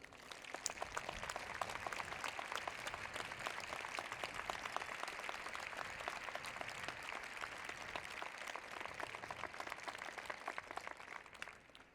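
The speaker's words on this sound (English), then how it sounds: "Please join me in applauding these exceptional teachers." Sustained applause from a large audience at a university commencement ceremony honoring teachers, dense steady clapping filling the whole stretch without talk.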